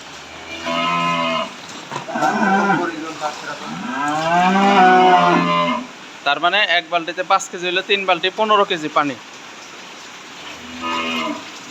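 Cattle on a farm moo in loud, drawn-out calls, one long low bellow followed by choppier lowing, while someone speaks close by in between.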